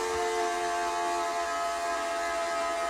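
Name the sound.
toilet making a strange noise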